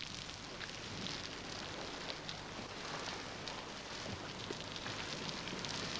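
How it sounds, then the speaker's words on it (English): Artificial rain for a 1983 BBC television drama shoot pours down as a steady, dense hiss of falling water with a constant patter, unbroken throughout. "we're going to need rain effects there"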